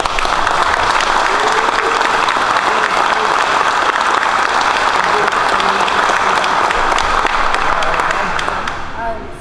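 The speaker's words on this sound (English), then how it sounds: "So let's all give this class a big round of applause." A crowd at a construction trades class graduation gives loud, sustained applause with cheering voices mixed in, holding steady for nine seconds before tapering at the end.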